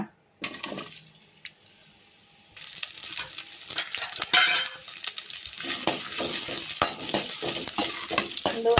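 Onions fry in a pan, a bright, hissing sizzle that swells partway through, with stirring scrapes and clinks of utensil against the pan, close and without talk.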